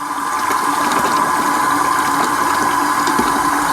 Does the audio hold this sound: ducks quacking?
no